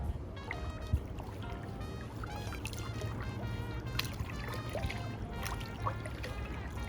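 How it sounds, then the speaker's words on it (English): Gently rippling water laps and trickles close by in a continuous, soft wash, with small splashy bubbles scattered throughout and no voices. "let's just listen to the sound of the water."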